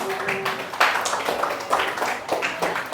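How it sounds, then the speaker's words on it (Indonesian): A classroom of students claps for a classmate during a maths lesson, a short burst of uneven, close hand claps with a few louder individual claps over about three seconds. "tepuk tangan untuk Pita"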